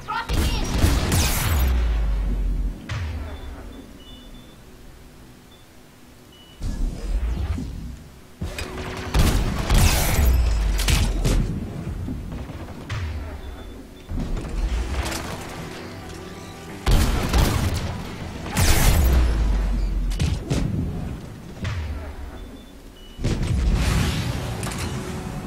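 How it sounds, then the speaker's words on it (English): Gunfire and explosions in the video game Mass Effect 3 during a rescue mission on Rannoch, with loud bursts of rapid shots and booms coming in repeated waves separated by brief quieter stretches. "That gunfire, but not ours."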